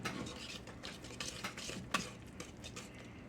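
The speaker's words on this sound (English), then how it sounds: "I'll mix it in for a minute with the whisk and see how she goes" Batter for a peanut butter loaf made with cane and maple syrup being whisked in a bowl, a soft, steady scraping stir with light clinks of the whisk against the sides, close and fairly quiet, with no talking.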